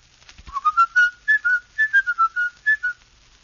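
A person whistles a short, wandering tune, a dozen or so clear notes in quick succession, close and alone.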